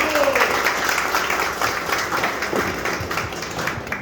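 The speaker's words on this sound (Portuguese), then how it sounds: "Palmas para o João Leite" Applause from the guests at an ADHONEP dinner in Governador Valadares honoring João Leite, with steady clapping sustained across the moment alongside crowd murmur and some talk.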